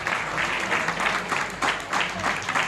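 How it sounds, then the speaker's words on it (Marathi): An audience claps for a guest being honoured at a training and contest prize distribution event, dense continuous applause swelling in waves, close and loud throughout. "पडवळ साहेबांसाठी एकदा जोरदार टाळ्या वाजवा."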